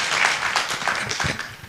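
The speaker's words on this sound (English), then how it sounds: "A round of applause for Josephine as she goes to the stage." Audience applause at an agritech innovation pitch day, a dense burst of many hands clapping at close range that holds steady and tapers slightly toward the end.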